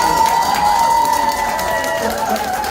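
A lecture hall audience claps and cheers in a dense, continuous wash of applause, loud and close, with crowd voices mixed in.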